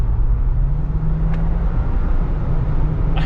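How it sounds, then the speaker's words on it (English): A 2021 Jeep Wrangler 4xe Rubicon in hybrid mode accelerates hard, heard from inside the cabin as a loud, steady engine drone and road roar that holds for a few seconds without pause. "if we put it back in hybrid mode here and then gas it"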